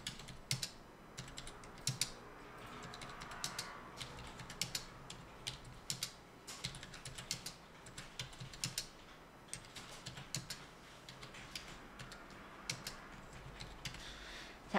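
Steady clicking of keys on a computer keyboard during spreadsheet work, a dense run of small taps with occasional sharper, louder strikes such as the Enter key, close and fairly quiet, with no one speaking.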